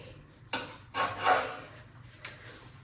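A knife cuts through a veal roll stuffed with prunes, making a few soft, separate slicing strokes on a board, quiet and close, with no talk.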